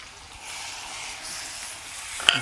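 Crushed onion and garlic fry in a pan with a soft, steady sizzle at close range. A faint clink sounds near the end, and no voices are heard.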